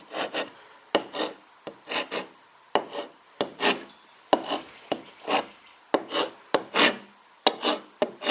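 A knife cuts a cross into oil-based paint in a quick series of short, dry rasping strokes, about a dozen, close and fairly quiet, with brief pauses between them.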